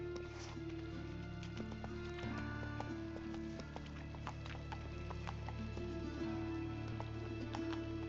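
Hooves clip-clop steadily under a horse ridden across open ground in The Witcher 3, a soft rhythmic beat beneath a constant low hum of game ambience and music.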